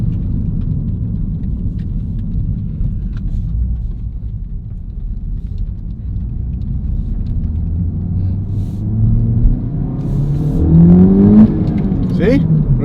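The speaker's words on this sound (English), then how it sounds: "It's actual real engine noises and real exhaust noises now." Heard from inside the car, a Honda Civic FL5 fitted with a Spoon Sports N1 exhaust drones low and steady, then swells as the revs climb toward the end, with people talking over it.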